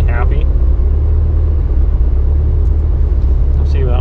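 A Ford Mustang tuned for around 500 wheel horsepower roaring on a dyno pull, a loud, steady, deep engine drone throughout, with brief voices at the start and end.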